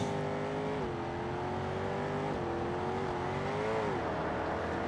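BMW M4 Competition engine in the BeamNG driving game, a steady droning engine note with smooth pitch rises and dips as the revs shift, continuous and fairly close with no talk.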